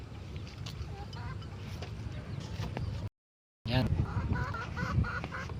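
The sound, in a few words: pet bird calling for food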